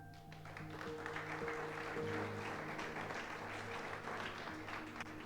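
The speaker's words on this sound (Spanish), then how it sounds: "Dale un aplauso al Señor." Steady applause from a church congregation fills the room for several seconds, with a low sustained musical tone beneath the clapping.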